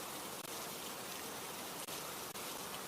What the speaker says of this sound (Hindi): बाहर लगातार बारिश, शीशे पर बूंदों की धारियां